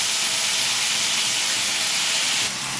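Green chillies dropped into hot oil with onions already frying for Bengali mutton kosha, giving a loud, steady, broad sizzle with no break, close up.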